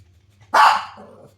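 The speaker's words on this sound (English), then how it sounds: "Continuously barking." A single sharp dog bark rings out nearby, short and loud, followed by a faint trailing tail against a quiet low hum.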